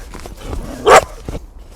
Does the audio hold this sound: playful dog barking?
yes